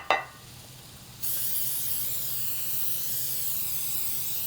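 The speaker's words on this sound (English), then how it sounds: "I'm going to spray this 9x13 casserole baking dish with nonstick cooking spray." Nonstick cooking spray onto a 9x13 casserole baking dish: a long, steady spray hiss begins after a brief initial burst and continues evenly to the end, close and fairly loud.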